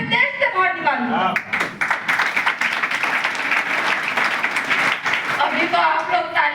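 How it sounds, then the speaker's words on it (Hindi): Seminar audience applauding, a broad dense wash of clapping filling the space for several seconds, with a speaker's voice continuing over it. "अभी तो आप लोग तालियां बजा रहे हो"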